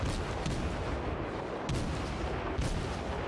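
German tier 3 cruiser guns fire in the World of Warships game, a dense, booming barrage with a few heavier distinct blasts standing out, loud and continuous with no talking.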